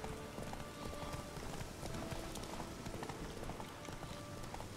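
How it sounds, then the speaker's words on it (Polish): Horse hooves clip-clop steadily in The Witcher 3, a busy patter of hoofbeats over a dense wash of game ambience and noise, continuous and fairly faint throughout. "O, konie."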